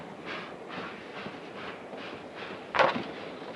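A passenger train rolls steadily along the rails with a continuous rumbling hiss and faint rhythmic clatter, one brief louder clunk near the end, no talk.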